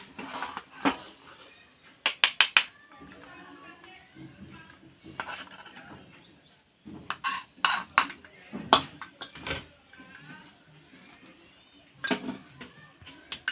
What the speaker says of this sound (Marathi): आपण तो गाळून घ्यायचा